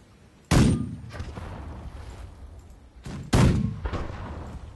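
Ship cannon broadside fire in The Last Leviathan, two heavy booming volleys about three seconds apart, each a sharp loud blast followed by trailing rumble and scattered echoing reports.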